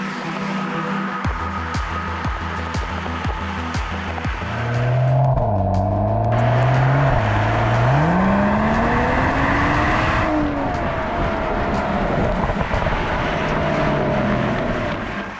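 A Mercedes-AMG E 53 Cabriolet being driven, its engine revving through rising and falling gear pulls, a steady low drone that climbs in pitch and swells in loudness midway, then settles into continuous cruising rumble.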